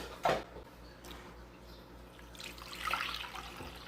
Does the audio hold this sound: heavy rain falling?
no